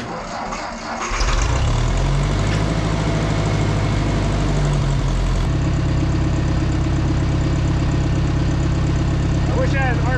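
A 1970 swather engine with an updraft carburetor cranks and catches after about a second, then idles at a steady, close, loud low rumble, shifting to a deeper note midway, with a voice briefly heard over it.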